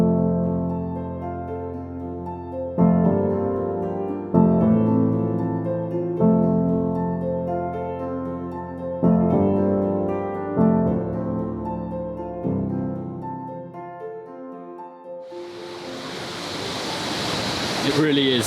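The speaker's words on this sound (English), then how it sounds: "the wind is starting to pick up and it is getting really quite bitterly cold as well" Wind picks up on an Isle of Skye mountainside, a loud, broad rushing roar surging in over the last few seconds after a stretch of steady tonal background music.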